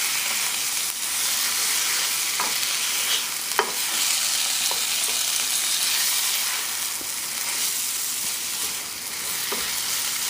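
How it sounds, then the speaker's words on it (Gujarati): A frying mixture for a chicken and greens dish gets stirred in a pan on medium heat. Steady close sizzling hiss runs throughout, with a few scattered scrapes and clinks of the spoon and no talking. "ને બસ આપણે ખાલી આને ફરાવી કે બધું મિક્સચર ફાઇન રીતે મિક્સ થઈ જાય"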